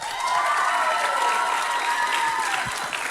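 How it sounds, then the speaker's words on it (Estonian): A church summer camp closing service audience applauds steadily, a dense even wash of clapping hands filling the room for several seconds with faint crowd murmur beneath. "Juba aplausis kuuled, kuidas rõõmustatakse kaasa."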